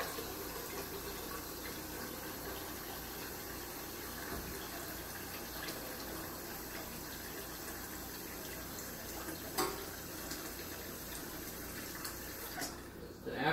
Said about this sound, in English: we gotta fill this pot up with water